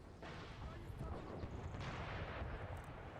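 Artillery cannons fire in the battlefield game Empire Total War, a run of heavy booms and rumbling blasts close together over a constant battle din, with a voice talking over it.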